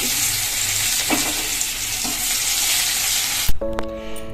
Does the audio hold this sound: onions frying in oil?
yes